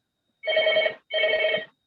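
Office telephone ringing, two loud electronic ring bursts about half a second each with a short gap between them, close by and with no talking.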